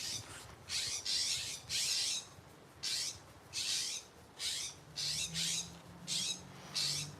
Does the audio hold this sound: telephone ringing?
no